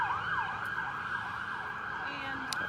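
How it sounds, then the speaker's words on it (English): An ambulance siren wails continuously as it passes nearby, a loud rising and falling tone over steady road noise. "we got an ambulance going by here"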